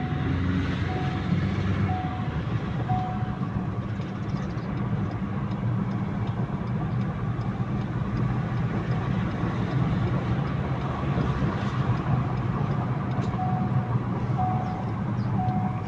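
A Ford Ranger Raptor with an unstable, low-power engine that has been stalling drones steadily through the cabin on a road test. The engine and road noise hold at a constant, continuous hum with no talking.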